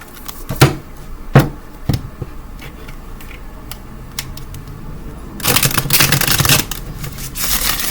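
Tarot cards handled for a reading: a few sharp taps and snaps of cards being drawn and laid down, then a louder riffling shuffle, close to the microphone with no talking.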